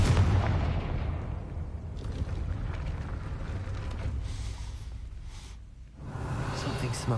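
Confringo fire-blast spell cast at a gate in the video game Hogwarts Legacy, a loud booming burst followed by a sustained rumbling roar that dips briefly near the end before swelling again.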